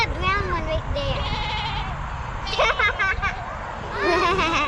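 Goats bleat in repeated wavering cries, with a baby goat among the herd outdoors, several calls overlapping at close range while people talk nearby.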